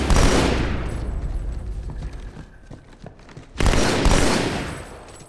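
Gunfire in Halo 2, loud and close, a heavy burst at the start fading into scattered shots and a second strong burst later, without talk.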